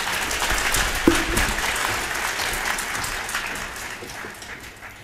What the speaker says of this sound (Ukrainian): Давайте підтримаємо оплесками.